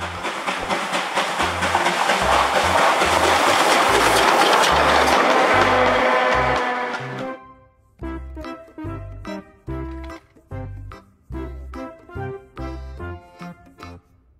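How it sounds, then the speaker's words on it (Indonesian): A Thomas toy train hisses and rumbles loudly, then chugs on in short rhythmic puffs with a bouncy musical backing. "Kereta Thomas."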